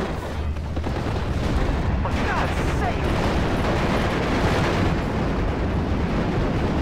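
Guns and artillery fire in a Normandy 1944 combat game, with dense rumbling booms and blasts rolling together into a loud, continuous barrage.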